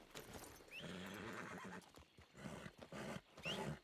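A horse whinnies loudly and close, a rising neigh followed by steady clip-clopping hooves, with a second shrill whinny near the end; no one speaks.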